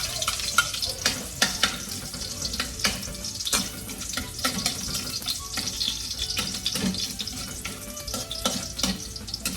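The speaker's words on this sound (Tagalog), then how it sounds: "magigisa na po tayo ng sibuyas at bawang" Garlic sautéing in hot cooking oil in a pan, the first step of a pork and bitter melon stir-fry: a steady close crackling sizzle scattered with sharp pops and clicks over nearly ten seconds, with no talking.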